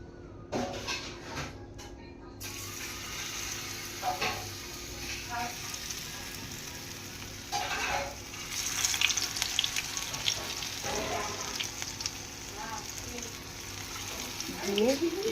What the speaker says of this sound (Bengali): তেল গরম হয়ে গেছে, এইবার ঢ্যাঁড়সগুলো দিয়ে দেবো।